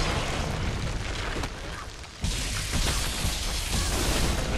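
Explosions in the Guardians of the Galaxy video game: loud, dense blasts and rumbling fire that fill the whole clip, dipping briefly before a sharp new burst near the middle, then continuing as a roaring barrage.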